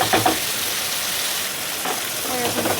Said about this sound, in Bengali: আর লবণ হলুদ দিয়ে এবার ভালো করে ভাজছি